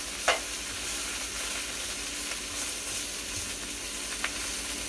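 Vegetables and peppers sizzling in a pan while being stirred, a steady close frying hiss with a few soft scrapes of the utensil against the pan.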